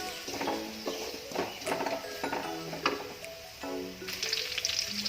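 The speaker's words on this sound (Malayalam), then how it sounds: "ഇതിൻ്റെ ഈ പച്ചച്ചുവ ഒന്ന് പോണത് വരെ ഒന്ന് വഴറ്റിയെടുക്കണം" Crushed ginger and garlic sautéing in a pan for a chicken gravy, a steady, close sizzle and crackle broken by a few stirring clinks and scrapes.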